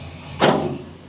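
A semi truck's fifth wheel release lever yanked once, giving a single sharp metallic clunk with a brief rattling tail against a quiet background.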